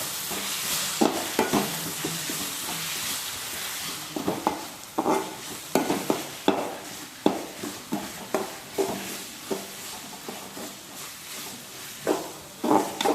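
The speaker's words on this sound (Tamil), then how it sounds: "பூண்டு போட்டு நல்லா வதங்கிடுச்சு. இப்போ மஞ்சள் தூள் போடுவோம். மஞ்சள் தூள் போட்டு வதக்கி" Oil sizzles in a pan as onions and garlic are sautéed with turmeric, with frequent scraping clatters of a utensil against the pan and no talking.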